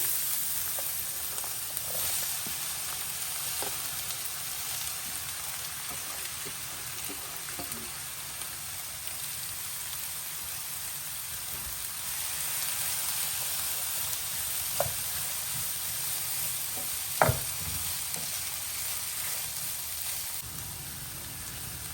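Chopped onions sautéing in a pan after mustard seeds popped, a steady soft sizzle like light rain, with occasional scrapes and taps from stirring.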